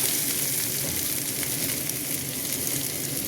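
Onions fry in hot tempering oil in a home kitchen pan, a soft, steady crackling sizzle with faint stirring, close by and continuous, with no talking.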